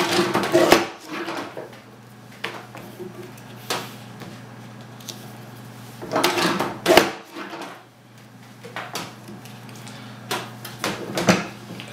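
A Dahle paper cutting machine, model 562 or 868, chopping through a stack of paper with several heavy blade strokes and thuds spread over the stretch, close by, between quieter pauses.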